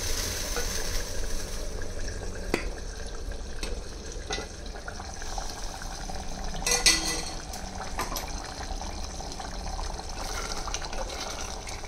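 Kuzhambu curry with vegetables simmering in a clay pot, giving a steady soft bubbling and faint sizzle of oil separating, continuous and close with a few brief clinks, no talking.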